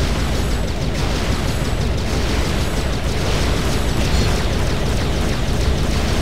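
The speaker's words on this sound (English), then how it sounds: "I'll go and use the Black Shark missile on him" Black Shark missile blast in the Descent 3 video game, a loud, sustained roaring explosion filling the whole clip with dense rumbling bursts and no pauses.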